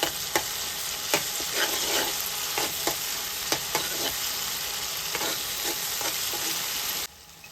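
Crushed ginger garlic paste fries with tomatoes and onions for a gongura dried fish curry. The loud, continuous sizzle is broken by regular spatula scrapes and taps against the pan, then it stops abruptly near the end.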